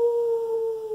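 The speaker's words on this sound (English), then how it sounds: "Oh, howled the wolf." A wolf howl from a storytime tale, a single sustained tonal call held steady for about a second, loud and close with no talk over it.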